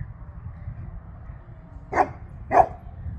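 Two sharp dog barks about half a second apart, fairly close, over a low, steady outdoor background hum on a goat farm. Nobody speaks.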